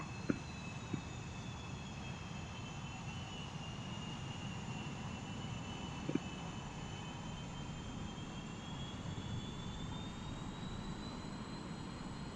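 An F-100 jet in the flight game DCS comes in to land, its engine a steady whooshing roar with a faint whine drifting in pitch, broken by a few soft clicks and knocks.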